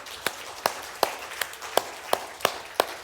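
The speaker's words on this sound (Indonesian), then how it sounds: "Kasih tepuk tangan." Sparse, evenly spaced claps ring out at a Sunday church service, about eight distinct sharp claps at a slow steady rhythm over a quiet background.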